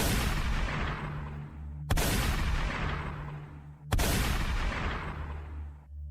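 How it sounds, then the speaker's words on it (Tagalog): A handgun drawn from a man's side is fired in several directions: three loud, sharp blasts about two seconds apart, each trailing off in a long echoing decay. "Nagpaputok ito sa iba't ibang direksyon."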